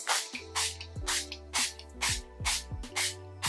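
A setting spray bottle is pumped over a made-up face in a run of about seven quick, close hissing bursts at an even rhythm, with no talking.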